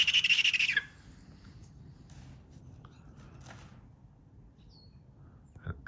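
An Asian brown wood owl, a young bird of a couple of years, gives one loud, shrill, rasping call under a second long, followed by near silence with faint rustles.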